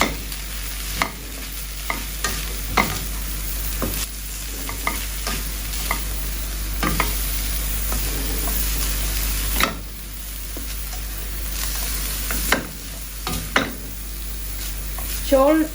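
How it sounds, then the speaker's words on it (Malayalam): Egg fried rice with dark soy sauce is stir-fried over a high flame, with a constant loud sizzle broken by repeated sharp scrapes and clanks of the spatula against the pan, close up and at an irregular pace. "നല്ല ഹൈ ഫ്ലെയിമിലിട്ട് വേണം കുക്ക് ചെയ്യാൻ. നമ്മുടെ ചോറ് ശരിക്കും ഫ്രൈ ആവണം."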